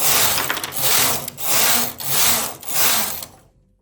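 A domestic knitting machine carriage is pushed across the needle bed in several back-and-forth passes, giving loud, steady rasping mechanical sweeps that stop abruptly near the end.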